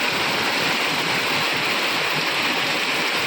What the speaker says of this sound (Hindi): बहुत तेज हो रही बारिश